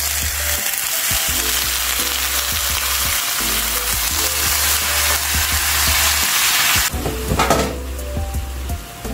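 Chicken pieces frying in a pan with golden-browned garlic for chicken tinola, a loud continuous sizzle with scraping stirs, then a brief clatter as the pan is handled.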